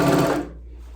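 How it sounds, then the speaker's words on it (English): A serger runs a quarter-inch seam on a t-shirt while its knife trims the edge, a brief loud whirring burst close by that stops abruptly halfway through. "just serging 1/4 inch. So just basically having the knife cut a little bit."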